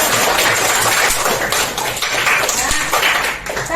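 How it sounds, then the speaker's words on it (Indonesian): Elementary classroom of fifth graders clapping together, a short burst of dense hand claps, loud and close, tapering slightly toward the end. "Tepuk tangan."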